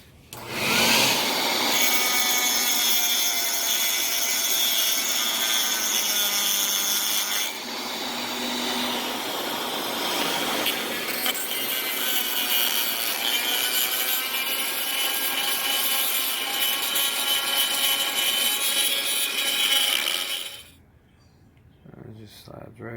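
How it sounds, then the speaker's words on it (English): A drill bores a pilot hole on a 2012 BMW S1000RR while a shop vacuum gathers the shavings, a steady loud whine that holds for about twenty seconds and then stops. Talk runs over it. "so that I'm not just, you know, wandering all over the place with the drill bit"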